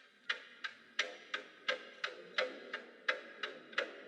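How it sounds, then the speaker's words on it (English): A clock ticking sound effect in a horror rap beat made in Ableton Live, steady at about three crisp clicks per second, clear and close with no other sounds. "I've just added a clock ticking sound from Arcade."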